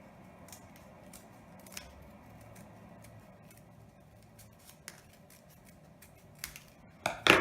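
Scissors snipping through material for a homemade blunt dart, a series of sharp, separate cuts at an irregular pace, close and fairly quiet, ending in a louder clatter, with no talk.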